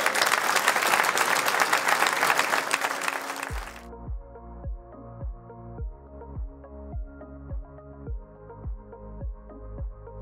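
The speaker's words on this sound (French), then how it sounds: "je vous demande de les applaudir très fort" A crowd at a transhumance festival claps loudly for the shepherds for a few seconds. The applause then cuts off and rhythmic, plucked-sounding instrumental music with a steady repeating pulse takes over.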